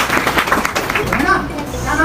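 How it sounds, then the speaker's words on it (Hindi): Students at a college of horticulture clap together in a quick burst of applause, close and loud, with a voice talking over the claps. "जरा ताली बजाओ, ताली बजाओ।"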